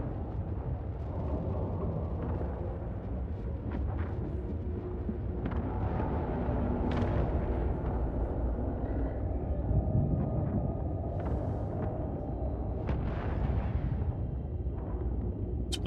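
Explosions as the Titan Taranis blows up in a game: a steady deep rumble with repeated muffled blasts and scattered crackling bursts, continuous and fairly loud throughout, no talk.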